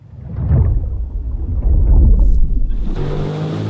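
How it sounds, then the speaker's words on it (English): Wave crash added as an effect for a boat in an edited highlight video: a loud, close, rumbling wash of water that swells and surges over a few seconds, then thins into a steadier hiss. "And then on the boat also to give that wave crushing sound."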